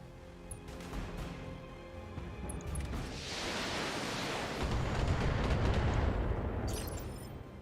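Mechs in the video game BattleTech fire weapons at two targets at once, a loud rumbling barrage of blasts that swells into a heavy roaring wash of explosions and continues over a steady game background.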